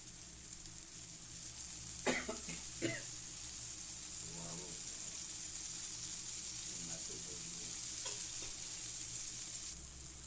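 Oil sizzles softly in a pan as eggplant slices fry, a faint steady hiss broken by a few utensil scrapes and clicks, with brief voices in the background.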